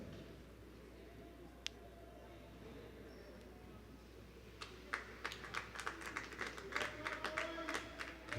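Fans applauding at a wheelchair basketball game between the United States and Thailand, scattered clapping that builds partway through and stays moderate over a low arena hum, with commentary talk underneath.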